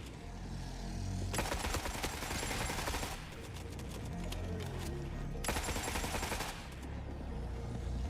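Turrets in The Forever Winter video game fire two long sustained bursts of rapid automatic gunfire, dense and steady, separated by a lower rumbling pause, with no speech.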